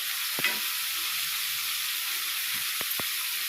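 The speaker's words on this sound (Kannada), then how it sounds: "ಫ್ರೈ ಮಾಡ್ಕೊತಾ ಇದ್ದೀನಿ." Tomatoes frying for chicken gravy, a steady close hiss and sizzle from the pan with a few sharp clinks and scrapes of a spoon stirring against the vessel.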